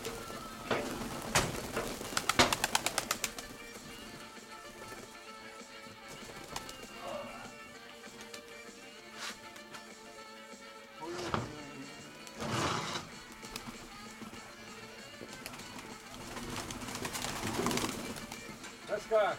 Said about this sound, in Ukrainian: Серега, мне уже жалко твоих голубей брать. Так, одну партию выпускаем